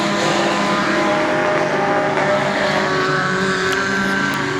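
A superstock race car engine on the track holds a loud, steady high rev, a dense sustained roar with no letup and no talk over it.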